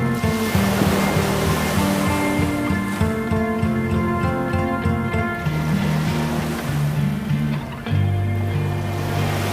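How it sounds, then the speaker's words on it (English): Mediterranean sea waves lap against a golden sandy beach, a loud, steady wash of surf with rolling swells and no voices. "Here, the cobalt blue Mediterranean laps against golden sands."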